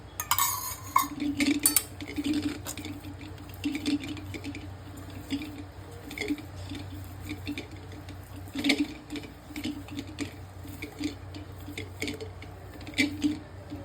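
Chapati dough of wheat flour is kneaded by an oiled hand, making soft, faint, rhythmic squishing and pressing sounds with occasional light knocks against the bowl.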